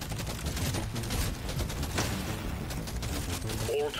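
Rapid, dense gunfire from Deep Rock Galactic: Survivor, a steady stream of game shots and small booms running the whole time, mixed with other game effects.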